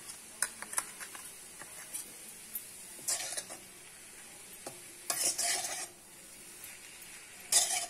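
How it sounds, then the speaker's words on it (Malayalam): Scattered taps, scrapes and short bursts of stirring come as grated coconut is mixed into a spinach stir-fry in a pan, with quiet gaps between the strokes and a soft sizzle underneath. "നന്നായിട്ട് ഇളക്കിയിട്ട് ഇത് സിമ്മിൽ കുറച്ച് നേരം വെച്ചേക്കുക"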